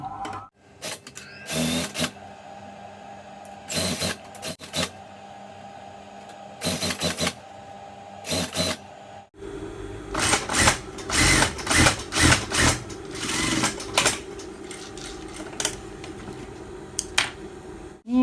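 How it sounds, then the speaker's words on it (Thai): A sewing machine stitching the hem of a shirt being resized from L to S, running in short bursts of rapid mechanical chatter separated by pauses, then a longer, louder stretch of stitching close by. "เย็บชายเสื้อเลย"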